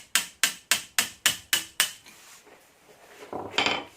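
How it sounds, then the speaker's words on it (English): Seven sharp, evenly spaced metallic hammer strikes drive a chisel into wood nearby, followed by quieter scraping and shuffling. "I have my hammer. I have my chisel."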